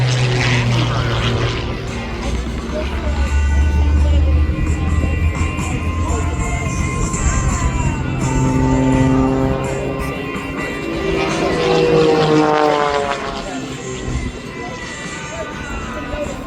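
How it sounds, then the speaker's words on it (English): A 1986 de Havilland DHC-1 propeller trainer flying low-level aerobatics at an air show, its engine droning loudly and continuously, swelling and shifting in pitch as it passes, with crowd noise and commentary-like talk beneath. "Flying this 1986 de Havilland DHC-1, designed originally as a trainer for the Royal Canadian Air Force, we're in for a display of low-level aerobatics"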